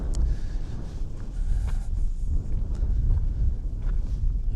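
Strong wind buffets the microphone on barren, treeless, grassy moorland at Knudaheio in Jæren under an overcast afternoon sky, a steady low roar with gusty swells throughout and no other clear sounds.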